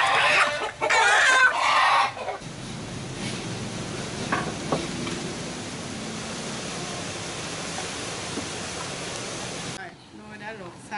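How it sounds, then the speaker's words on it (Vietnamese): Chickens, one green-legged and one yellow-legged, cluck loudly and close by in a kitchen for the first couple of seconds, followed by a steady hiss with faint scattered clucks and some talking. "một con gà chân xanh, một con gà chân vàng nha"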